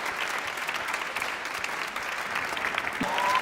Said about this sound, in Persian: حسنه این رو تشویق کنین